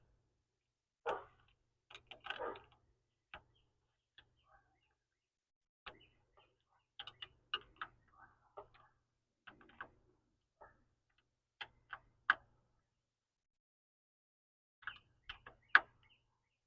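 Small metal clicks and ticks from a wrench tightening top-post adapter bolts on a car battery terminal, sparse and irregular, quiet and close, with short ratcheting bursts between long pauses and no talking.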